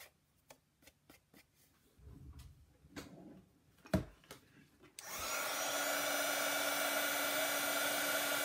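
A heat embossing tool switches on for card-making with Versamark ink, a steady loud whirring blast of hot air following a few soft ticks and handling taps.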